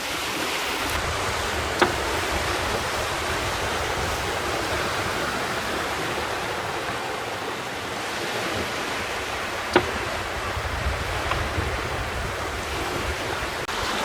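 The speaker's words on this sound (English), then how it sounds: "The wind's been building all day, and I would say it's blowing about 20 knots now." Strong wind of about 20 knots and a small sea rushing past a sailing boat, a steady broadband roar of air and water, close and continuous, with a couple of faint knocks.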